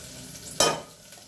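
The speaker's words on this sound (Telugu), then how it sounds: "నెక్స్ట్ ఉల్లిపాయలు వేస్తున్నాను" Onions dropped into hot oil in a pan for a drumstick and egg curry, a sudden loud sizzling burst that settles into a softer, steady frying hiss.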